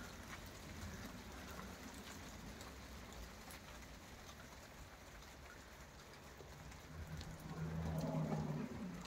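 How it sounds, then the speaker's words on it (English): Steady rain hiss fills the scene, a constant wash of drops on surfaces with a low rumble rising slightly near the end. "Even if there's no thunder and it's just rain,"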